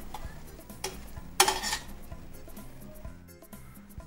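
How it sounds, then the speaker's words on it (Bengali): A spoon scrapes and taps in a pan as coconut paste is stirred into masala for prawn malai curry, with soft scraping strokes and one louder clatter over a quiet kitchen background. "দিয়ে এবার ভালো করে এগুলো সব একসাথে আবার কষাব"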